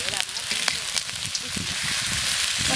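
Fatty pork browning in a hot pan for a Zhejiang-style home dish, giving a steady, close, broadband sizzle with light crackles that grows slightly denser toward the end.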